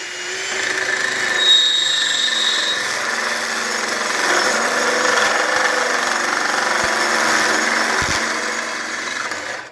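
Power tool cutting a fish mouth notch into pipe for exhaust work, a loud, steady whining drone that runs unbroken for the whole stretch, with occasional faint knocks underneath.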